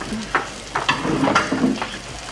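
Pan-frying sounds with scraping and stirring bursts over a steady sizzle, several short strokes in quick succession, close and moderately loud.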